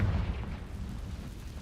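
An explosive Confringo spell blast in a Harry Potter video game: a loud, close, low booming burst at the start that rolls into a rumbling decay through the rest of the moment.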